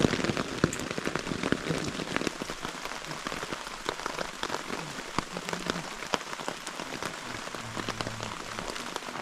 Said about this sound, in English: moments later the storm hits and brings plenty of rain and lightning